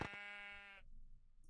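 A single sheep bleat from the Minecraft video game, a nasal, buzzy, sustained cry lasting under a second, heard close and clear, followed by faint background noise.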